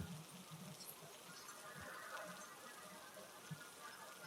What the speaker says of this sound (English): if you guys can put up with the rain, and if you guys can hear the rain.